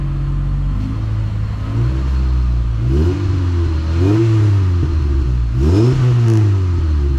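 A Honda CRX Si engine idling low and rumbling through a new exhaust, then revved several times in quick swells, each rev rising and falling with a deep exhaust growl.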